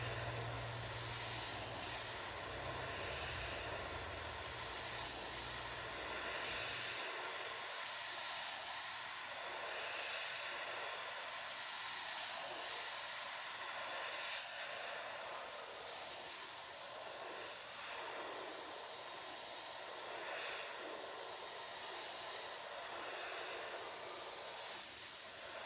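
Airbrush-style spray painting of a custom crankbait fishing lure gives a faint, steady airy hiss that runs unbroken for the whole stretch, with a low hum fading out near the start.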